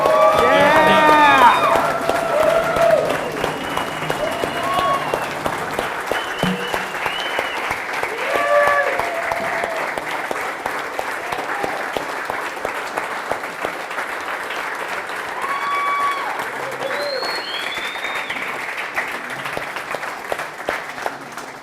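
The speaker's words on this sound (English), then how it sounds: "give him a big round of applause for Dean?" Crowd at a BMX track event applauding and cheering for a rider named Dean, dense clapping with scattered whoops and shouts, loud at first and then settling into steady applause that carries on throughout.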